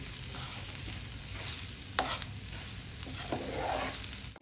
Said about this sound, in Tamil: சோயா கீமாவும் சேர்த்து நல்லா மிக்ஸ் பண்ணி கொடுத்துக்கலாங்க